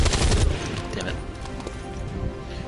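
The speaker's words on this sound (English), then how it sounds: "Death and shooting everywhere." Gunfire in the video game XCOM 2, with a dense burst of rapid shots at the start followed by scattered cracks and clatter under the game's soundtrack, loud and close.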